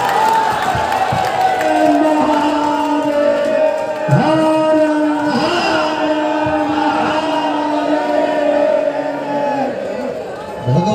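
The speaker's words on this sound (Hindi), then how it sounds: "खूब जोरदार ताली बजाकर हर हर महादेव कहो" A large crowd at a live religious gathering at Bageshwar Dham claps and chants Har Har Mahadev, a loud continuous roar of voices and cheering throughout.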